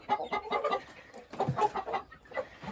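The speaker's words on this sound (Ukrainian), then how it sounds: "Отак наші курочки." Backyard hens clucking close by in a village coop, a run of short, loud, rhythmic clucks in bursts with brief pauses, no talk.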